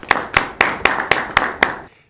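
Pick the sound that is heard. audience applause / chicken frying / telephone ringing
audience applause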